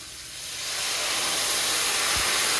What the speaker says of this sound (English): I'm gonna deglaze the pan